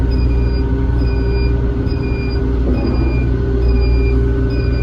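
Steady, loud engine drone and rumble of a Lovol GM80 combine harvester driving at the start of harvest as the throttle is eased, a continuous close mechanical hum with faint whine, no voices.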